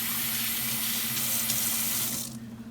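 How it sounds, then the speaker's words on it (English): Running sink tap gushing steadily as hands are washed during baking, a close, loud, continuous water rush that cuts off abruptly near the end. "Let me wash my hands right quick."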